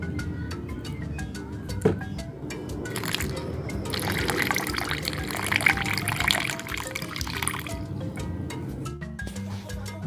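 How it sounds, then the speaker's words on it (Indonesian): Water pours into a drinking glass at a tabletop painting setup, a steady trickling fill swelling in the middle and dripping off, close and clear, with no talk over it. "Dan jika dirasa air yang masih tersisa di gelas ini kurang,"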